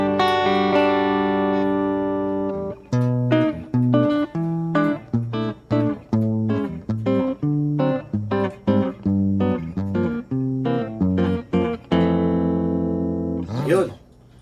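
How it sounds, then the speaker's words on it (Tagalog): Electric guitar played with its preamp switched off and routed through an acoustic simulator pedal, giving a picked, acoustic-like tone in a steady run of plucked notes and chords, loud and close, ending in a brief strum. "Yun yung tunog ng acoustic simulator."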